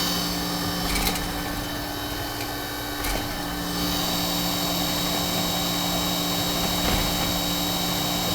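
A home heating unit runs rough as if starved for fuel, a steady droning hum with a strained mechanical whine and a few sharp knocks and surges over its running tone.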